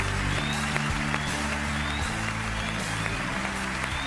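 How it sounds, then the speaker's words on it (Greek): Studio audience applause on The Voice of Greece talent show, a dense, steady wash of clapping and cheering over a low musical backing, sustained for several seconds. "αποχαιρετούμε με ένα πολύ δυνατό χειροκρότημα τη Γεωργία μας"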